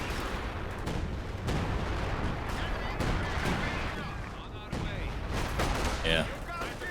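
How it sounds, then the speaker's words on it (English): An artillery strike pounding a machine gun position in a World War II-style video game, a dense barrage of heavy booms and gunfire bursts rolling continuously, with voices heard amid the battle noise. "Especially when you can call an arty on my MG."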